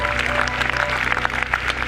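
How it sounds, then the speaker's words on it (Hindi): Audience at a motivational training event claps in a continuous, moderately loud burst over a low background hum. "ताली होनी चाहिए।"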